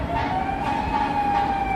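A fire engine siren holds a steady wailing tone over a dull rumble of traffic, brief and moderately loud.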